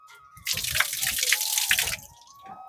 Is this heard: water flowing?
yes